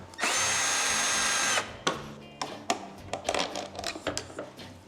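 A power driver whirs loudly for about a second and a half as it backs a T30 screw out of a BMW R1300GSA motorcycle panel, followed by close clicks, taps and rattles of the screw and tool being handled.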